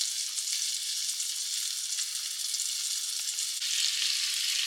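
Cube steak fries in a pan over medium heat, a steady, dense sizzle holding at an even level throughout with no talking over it.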